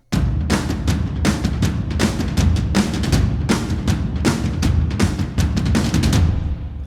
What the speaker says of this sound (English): The percussion will now sound like this.